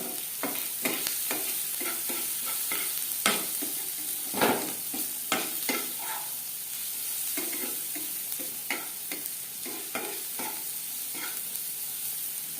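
Onions with turmeric frying in a pan for dal fry, a steady close sizzle broken by repeated scraping stirs of a spoon, with no voices.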